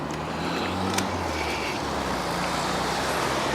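Steady street traffic rumble from passing cars and trucks while riding a scooter along a city street with a bike lane, a continuous broadband roar with low engine drone throughout, close and fairly loud, with no talking.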